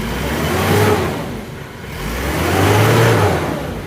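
An Isuzu Panther engine revs twice, rising and falling in two long loud swells of mid-pitched roar, close by with no talking.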